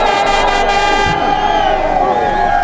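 Rally fans cheer and shout as a crowd at a snowy, cold Rally Monte Carlo stage, a dense, loud wash of voices with a high whistle at first, under a narrating voice.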